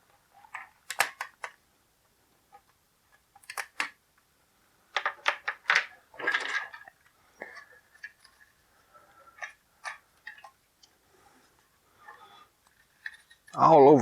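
Scissors snip rubber bands off a G.I. Joe Rise of Cobra Mantis Attack Craft toy, with small sharp clicks and plastic handling ticks scattered between brief quiet pauses and a louder rustle at the end.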